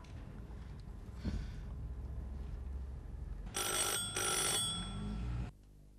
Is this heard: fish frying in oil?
no